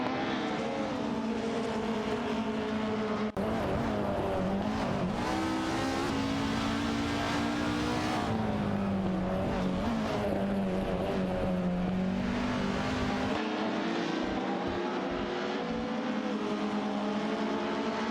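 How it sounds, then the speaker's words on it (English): Racing cars in a video game, including a Nissan Primera P11 and a 1998 Ford Mondeo, drone with loud continuous engine tones that rise and fall through gear changes, with one abrupt cut partway through. "Babardo and Panda Hero 96 in the Nissan Primera P11 are fiercely contesting P20 against Dov Blazer and Suzanne Greenberg in the Ford Mondeo 98."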